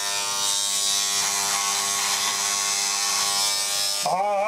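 Vintage 1983 Remington vibrator-type electric shaver running on mains power, a loud, steady, close buzzing hum that holds for about four seconds before a voice starts speaking over it.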